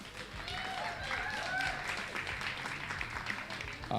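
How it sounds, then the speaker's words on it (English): A crowd applauds a third-place finisher at a BAT Outta Hell 2026 competition, producing brief, fairly faint clapping with a few voices mixed in over room noise. "we'll give her a round of applause there for coming third place"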